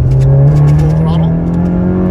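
Honda Civic Type R with a big-bore throttle body pulling hard at full throttle from a green light, a steady loud engine drone rising throughout, heard from inside the car.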